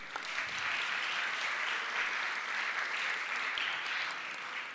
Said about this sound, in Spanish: Les pido para ella un caluroso aplauso